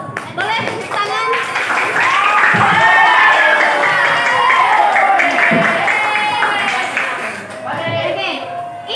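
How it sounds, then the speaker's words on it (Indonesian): Schoolchildren in a classroom clap and cheer together, a loud, dense burst of applause mixed with excited young voices and shouts that swells and holds for several seconds before tapering. "Boleh tepuk tangan?"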